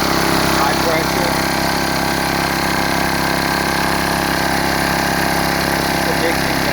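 A Phoenix CDY2500L propane generator engine runs steadily at close range with a constant, loud, buzzing drone that holds even throughout.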